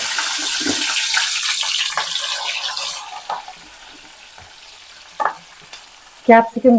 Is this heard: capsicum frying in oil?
yes